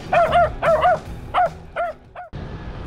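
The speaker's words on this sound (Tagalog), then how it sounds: "Mga aso dito, hindi maka-appreciate ng joke." Several dogs bark in close, repeated bursts of yips and woofs outdoors in San Miguel, Bulacan, during a long road bike ride. The barking breaks off, leaving steady background noise.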